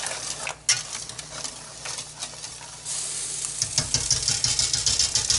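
Diced carrots and celery are turned in a hot pan, starting with a few scrapes and then building into a steady busy sizzle with clattering stirring close by.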